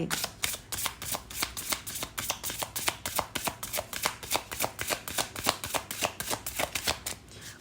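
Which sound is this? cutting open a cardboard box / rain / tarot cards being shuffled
tarot cards being shuffled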